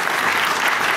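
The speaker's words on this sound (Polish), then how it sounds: "Wielkie brawa dla tego młodego mężczyzny." An audience at a comedy festival gala claps steadily and densely, welcoming a stand-up performer onto the stage.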